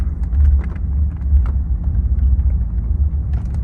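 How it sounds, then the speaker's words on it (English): Low, steady road rumble from inside a 1973 Rolls-Royce Silver Shadow LWB driving over bumps, with soft thumps and almost no squeaks or rattles in a quiet cabin. "The car is really quiet, as you can hear, going over bumps."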